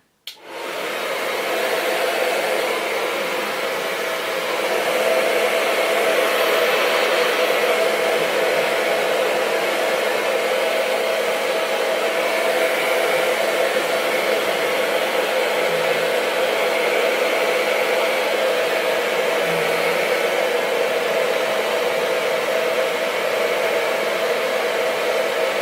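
A hair dryer blows heat onto hair dyed with a temporary rose gold color. It makes a loud, steady, close whooshing roar that starts abruptly and runs unbroken, with no voices.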